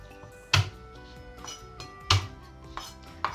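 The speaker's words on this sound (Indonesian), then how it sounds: "Nah geprek bawang putih," Three cloves of garlic are smashed with the flat of a knife on a cutting board in two sharp, loud thumps about a second and a half apart, with lighter taps and knocks in between.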